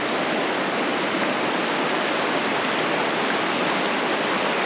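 Steady rushing river water flowing through the steep-walled Narrows canyon in Zion National Park, a continuous broadband wash heard close and loud with no voices.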